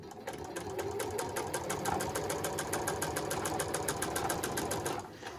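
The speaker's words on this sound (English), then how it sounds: "I'm going to be sewing about 1/8 of an inch away from the fold" A sewing machine runs a straight stitch through jeans fabric, a fast even mechanical clatter of needle strokes held steady for several seconds before stopping, close and alone.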